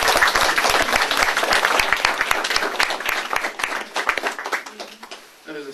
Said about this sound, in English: So I think everybody deserves a big round of applause.